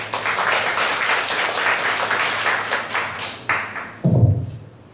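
Applause from an audience at an Energy Day proclamation ceremony in Busan, steady dense clapping for several seconds that breaks off, followed by a few close thumps and handling noises.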